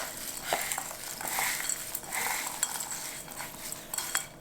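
A utensil stirs toasted nuts and seeds around a pan, giving soft, quiet scraping and rattling with small clinks scattered through, close and without talk.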